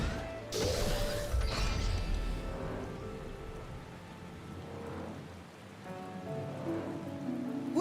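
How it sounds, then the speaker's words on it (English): Rain falls steadily in the Final Fantasy XIV Heavensward game world, a soft continuous wash with a sharp crash near the start and faint tones underneath. "It's funny because it's already raining in game."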